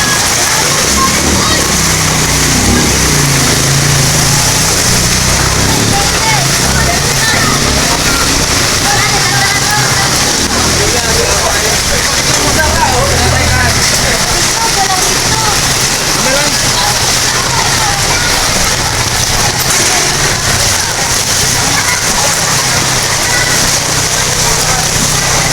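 Rushing floodwater from Typhoon Carina in Marikina gives a steady, loud wash of flowing and splashing water, with voices talking faintly underneath.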